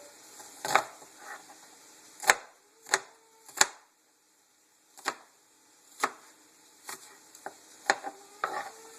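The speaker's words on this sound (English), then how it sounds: "there you got some little diced, some little minced onions" Knife dicing and mincing onions on a cutting board in a home kitchen, a series of sharp, separate chops spaced irregularly, with quieter scraping between them and near-silence in the gaps.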